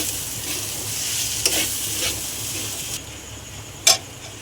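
Gobindobhog rice, moong dal and turmeric sauté in a hot pan for khichuri, a continuous close sizzle broken by stirring scrapes and a sharp clack near the end.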